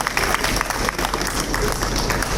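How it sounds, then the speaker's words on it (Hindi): Audience applause at a Delhi civic ceremony on plastic-free efforts, a loud, dense burst of clapping from a crowd, rippling unevenly with a faint murmur of voices mixed in. "तालियों की गड़गड़ाहट"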